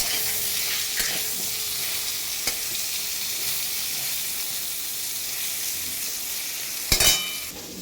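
Pointed gourd (potol) frying in a covered pan gives a steady, even sizzle and hiss, broken by a few sharp utensil taps and a louder scraping stir near the end.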